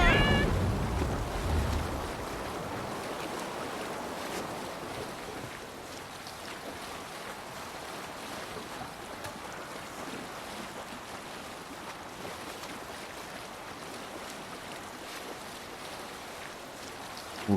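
A sailing ship out on open water in the game Assassin's Creed Valhalla, with a steady wash of waves and wind rushing past for the whole stretch, and a brief louder burst at the start.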